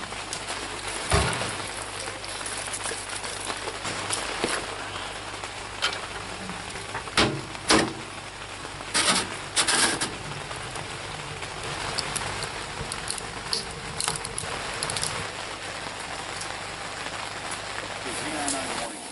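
Rain falls on a cold, damp duck hunting camp, a steady soft patter over a low hum, broken by several louder knocks and thumps, with a voice talking at times.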